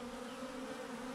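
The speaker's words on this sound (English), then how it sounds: "I'm waiting for a lot of the bees to start fanning" A steady, low droning buzz of a honeybee swarm clustered on a cactus, continuous and close, with no pauses.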